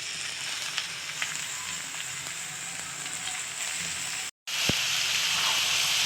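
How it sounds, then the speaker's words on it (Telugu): Broad beans added to a pan of lightly fried onions and green chillies, producing a steady, moderately loud sizzle and crackle throughout, briefly cut to silence before resuming. "ఇప్పుడు లైట్గా వేగిన తర్వాత చిక్కుడుకాయ వేసుకోవాలి"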